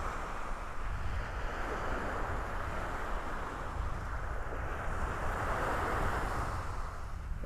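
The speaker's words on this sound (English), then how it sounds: "a little breezy, wind coming in from the south-southwest." Breezy wind buffeting at a beach in North Naples, Florida, a steady broadband rush blending with surf, loud and constant with no talk.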